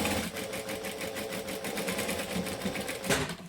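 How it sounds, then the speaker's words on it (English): Sewing machine running steadily for several seconds as it top stitches two fabric pieces together for a bag, a fast even needle rhythm close by with a brief louder clunk near the end. "you can also top stitch this piece to this piece here so that it's going to sit flat"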